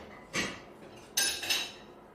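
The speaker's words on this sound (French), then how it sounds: "Le tintement de casserole qu'on malmène se fait entendre dans la pièce d'à côté." Two bursts of metallic clattering as saucepans are roughly handled in the adjoining room, one short clank followed by a longer rattling clatter.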